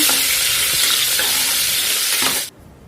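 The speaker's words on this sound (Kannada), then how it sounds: "ಈರುಳ್ಳಿನ ಅಷ್ಟೇ ಸ್ವಲ್ಪ ಚೆನ್ನಾಗಿ ಫ್ರೈ ಮಾಡ್ಕೊಳ್ಳೋಣ" Onions sizzle steadily in hot oil with fennel seeds and cardamom for mushroom biryani, with a few scraping stirs, before the frying cuts off abruptly near the end.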